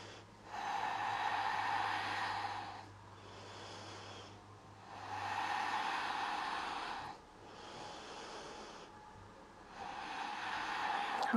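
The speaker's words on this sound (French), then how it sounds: "Encore une longue inspire." Slow deep breathing during a yoga flow, long inhales and exhales alternating in about three or four broad swells, soft and close with a low steady hum beneath.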